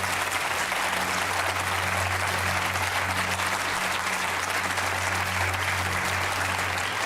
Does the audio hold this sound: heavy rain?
no